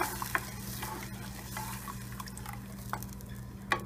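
Quiet bubbling and light sizzling from a pot of brinjal kara kuzhambu (tamarind curry), with soft irregular pops and a steady low hum underneath, no voices.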